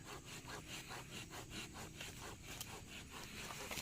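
Steady back-and-forth sawing through wood, a rhythmic rasping stroke repeating about three times a second, close and moderately quiet.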